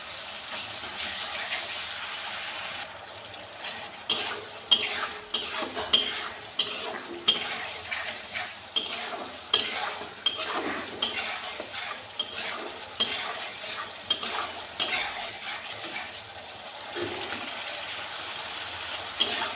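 A spice masala with turmeric and chili powder is stirred and sautéed in a pot, giving a rhythmic series of scraping spoon strokes roughly every second over a soft background sizzle, with no talking.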